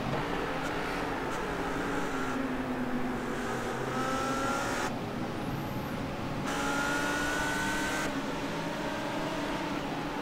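A GT3 race car on a flying lap at Road America in the iRacing sim, its engine droning loud and steady throughout, with shifts in pitch as it accelerates and a faint whine near the middle.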